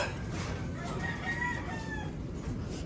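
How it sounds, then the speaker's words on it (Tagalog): Hens and roosters in a breeder loft, a rooster crowing clearly amid steady clucking and general flock noise, close by and continuous. "Ito yung mga hen. Ito yung mga kak."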